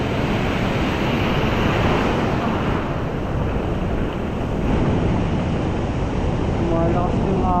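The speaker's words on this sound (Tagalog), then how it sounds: "Sunod-sunod ko yung alon" Ocean surf rolls onto the shore during ultralight fishing, a loud, continuous rushing wash mixed with gusty wind buffeting the microphone. A faint voice comes in near the end.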